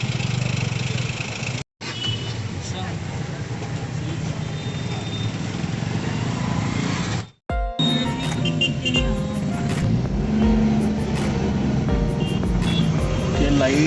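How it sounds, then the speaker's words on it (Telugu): Traffic jam on the road to Nandi Hills: idling car and truck engines with reversing beeps, close and fairly loud, with people talking over it and a couple of brief dropouts. "jam traffic total traffic jam అయిపోయింది"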